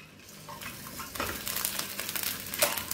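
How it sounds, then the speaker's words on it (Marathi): Eggs pierced with holes dropping into hot oil in a pan, a sizzle that swells after a second into a crackling fry with sharp spatters, close and moderately quiet, without speech. "आता त्यामध्ये हे आपण जे अंड्यांना छिद्र पाडून घेतले ते आता यात मी फ्राय करायला टाकत आहे"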